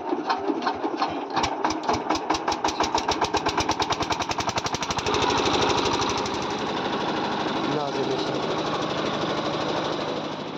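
A rice-mill-type engine driving a sugarcane crusher for making jaggery starts with rapid loud chugging thuds, then settles into a dense, steady mechanical roar, close by.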